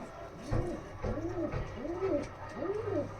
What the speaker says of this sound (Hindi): तो बहुत ही प्यारे कबूतर है जी